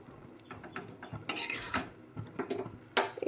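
Yogurt-marinated jackfruit being sautéed in a pan, with intermittent clinks and scrapes of a utensil stirring against the pan, close and fairly quiet, a few sharper knocks near the end.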